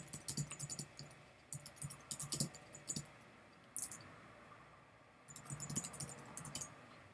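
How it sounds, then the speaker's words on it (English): Typing on a computer keyboard, close and fairly quiet: quick bursts of clicky keystrokes come in several clusters separated by short pauses, with no talking. "Hold on, I'm typing."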